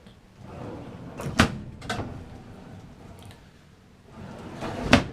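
Drawers in the galley of a 2017 Airstream Flying Cloud 20C Bambi travel trailer slide on their runners and shut with sharp knocks, with two closes close together, then a pause and a final firm one.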